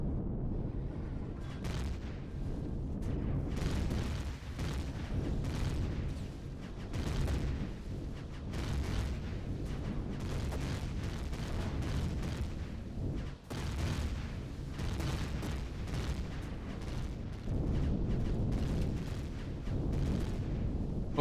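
Hover tank turrets in the survival game Empyrion pound a base with rapid, repeated booming shots and explosions, a dense continuous barrage of artillery-like fire.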